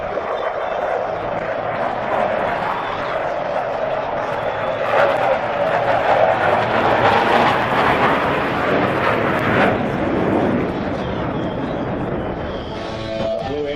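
Blue Angels jets fly the opposing 360 pass, a loud, continuous broadband roar that swells through the middle and fades toward the end, with possible faint narration underneath.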